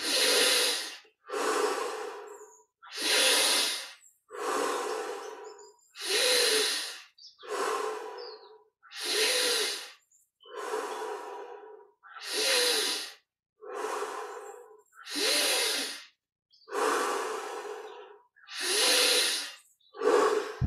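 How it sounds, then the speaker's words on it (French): Deep, forceful breaths during Kriya Yoga meditation repeat in a steady rhythm, about a dozen loud, close airy inhales and exhales separated by short silences, each growing in amplitude. "on augmente maintenant progressivement l'amplitude de chaque respiration."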